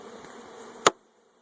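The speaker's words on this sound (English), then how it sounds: "We're going to bounce it again to knock the bees down." A soft buzzing hum of honeybees in a package cage fades out after a sharp bump knocks them down, leaving near silence.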